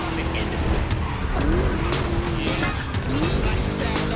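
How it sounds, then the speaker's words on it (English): A deep, throaty V8 car engine in the video game The Crew Motorfest revs and drones continuously, its pitch rising and dipping as it shifts, with a voice talking over it. "Just listen to that V8 like a chunky, down-tuned guitar riff"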